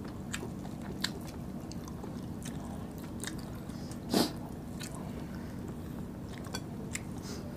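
Quiet, close chewing of spicy pork bistek with onions: soft, wet bites and squishes at an irregular pace, with one sharper crunch partway through and no talking.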